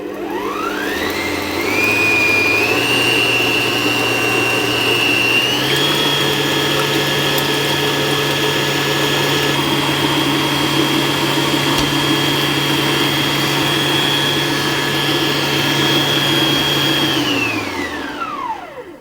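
Stand mixer beating pavlova egg mixture until frothy, a loud steady whirring drone that steps up in speed partway through and winds down at the end, with no talking.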